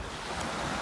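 Sea waves washing onto a beach under a light wind, a steady broadband rush with some wind noise on the microphone, brief and without talk.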